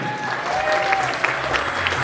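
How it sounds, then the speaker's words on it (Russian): Audience applause in a theatre hall after a performance by actors of a Moscow theatre studio, steady dense clapping throughout with a faint whistle-like tone and some voices in the background. "давайте проводим аплодисментами"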